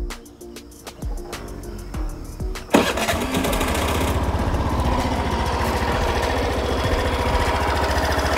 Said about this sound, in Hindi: अब मैं आपको इसका एग्जॉस्ट नोट सुना देता हूँ